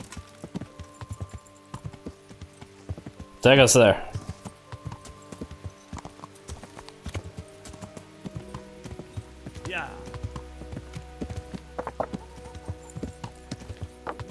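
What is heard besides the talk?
horse hooves clip-clop in video game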